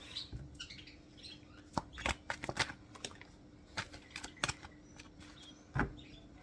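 Cards being shuffled close by, a series of soft irregular riffles and snaps over a quiet low hum.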